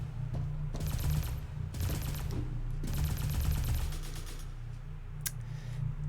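Weapon fire from the Lost Soul Cannon in the Valfaris video game: three sustained bursts of rapid, crackling shots over a steady low game soundtrack, with a sharp single blast near the end.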